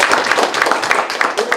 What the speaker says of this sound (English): Give them a round of applause, bro.